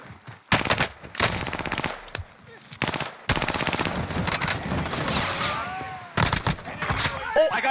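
Rapid machine-gun bursts in a shooter video game rattle in repeated loud volleys, broken by short pauses, with players talking over the action.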